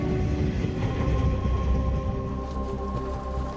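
A heavy coal train of close to 5,000 tonnes rumbles away in Australia, a loud low continuous drone with steady engine tones and wagon noise, fading slightly toward the end.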